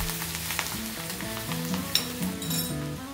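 A tempering of asafoetida and turmeric sizzles steadily in hot oil as it is stirred in a pan for saoji patwadi rassa, a close, continuous frying hiss under soft background music.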